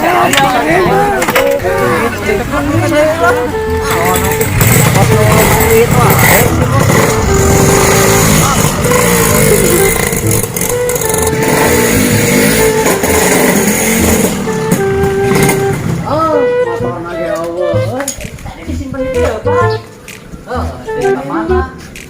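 A motorcycle engine runs loudly and steadily with revving, close by, while people talk over it; the engine fades toward the end.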